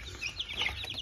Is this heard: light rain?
no